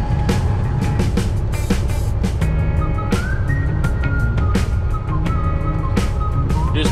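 A loaded truck cruises down Highway 79, its engine and road noise droning loudly and steadily from inside the cab, with occasional clicks and rattles and hardly any talking.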